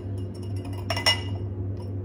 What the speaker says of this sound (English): I'm gonna take my glass, put it in the water, then we're gonna rim it